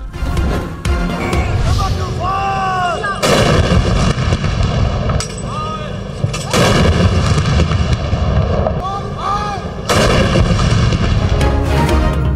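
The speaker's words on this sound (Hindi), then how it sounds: "मुल्क भर में दिन का आगाज तोपों की सलामी से हुआ" Cannon salute fired at the start of the day to mark Eid Milad-ul-Nabi, a series of loud, booming blasts at spaced intervals, each followed by a rumbling decay, with voices and a crowd audible in between.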